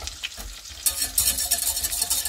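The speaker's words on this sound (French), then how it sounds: "ma truite, regardez, elle est en train de frire doucement sur un feu moyen" Trout fries gently in a pan over medium heat, giving a soft, close sizzle with uneven crackles and small bursts of spitting oil, heard alone without talk.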